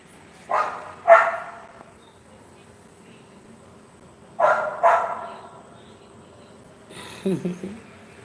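Dogs, apparently puppies for sale, bark in short pairs of yips and woofs at a moderate distance, two bursts separated by quiet, followed by a softer muffled sound near the end.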